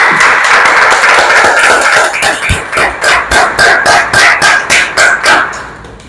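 An audience claps for a speaker at the close of a conference cycle on pan-Africanism: a burst of loud, close clapping that turns into rhythmic unison claps in a steady beat before fading out.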